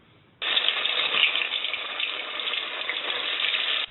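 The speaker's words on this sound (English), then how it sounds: "The sound of fish sizzling in hot oil." A loud, steady sizzle of fish frying in hot oil begins abruptly and crackles continuously at close range before cutting off.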